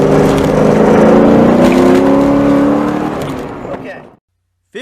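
A 1994-2004 Ford Mustang fitted with tubular front A-arms and custom Delrin bushings drives loudly on a track course with hot tires, its engine droning and shifting pitch before cutting to sudden silence.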